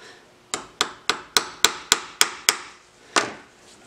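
Light hammer taps on a punch held in a vise while fitting bandsaw tracking plates: eight crisp metallic strikes in a steady, even rhythm, then a pause and one final tap, close and alone.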